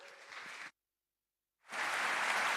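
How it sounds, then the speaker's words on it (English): Audience applause at a startup pitch event, a dense patter of clapping that stops abruptly for about a second of silence, then returns louder and fuller. "Round of applause"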